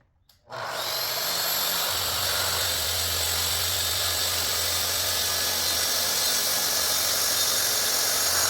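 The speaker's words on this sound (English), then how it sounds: "I am adjusting the cut depth on my track saw to be a little deeper than the thickness of the plywood" A track saw slicing through plywood laid over foam board on a workbench: a loud, steady whine that starts abruptly and runs on without break, with a low hum underneath.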